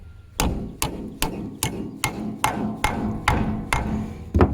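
Nail driven into a wooden base of a homemade post hole auger stand with a hammer: about ten sharp, evenly spaced strikes ringing close and loud in a steady rhythm, with no talking.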